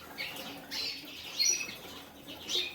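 Redpoll birds in a birdroom aviary give faint high chirps and twitters, with brief wing flutters and light rustling heard close but quiet.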